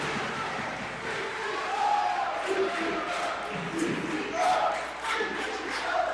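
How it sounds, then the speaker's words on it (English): A wrestling crowd at a CCW independent show chants in unison, a noisy arena crowd with rhythmic shouted chants and cheering throughout. "fans are chanting CCW"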